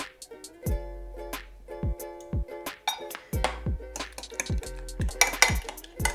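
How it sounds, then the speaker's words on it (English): Eggs for an omelette being whisked in a bowl with coriander, salt and pepper: repeated clinks and scrapes of a utensil against the bowl in short irregular bursts, close and fairly quiet, with no talking. "Mix it up and add a little bit of salt and pepper."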